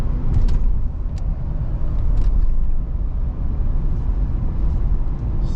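Steady low rumble of a 2018 GMC Yukon XL accelerating on a road, with engine and road noise filling the cabin and a few faint clicks, no talking.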